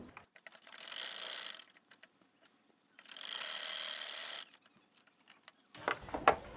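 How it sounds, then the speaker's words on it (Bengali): A sewing machine stitches the side pocket of a pair of trousers, running in two separate bursts of steady whirring, each about a second long, with quiet pauses between them and no voices. "আটকে দেওয়ার জন্য এখানে একটা সেলাই করে দিচ্ছি।"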